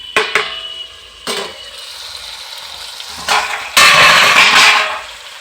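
Chicken rezala is stirred in a pot, with a few sharp scraping strokes and clatters of a spoon against the metal rising above a quiet sizzle. A louder, sustained bout of stirring comes near the end.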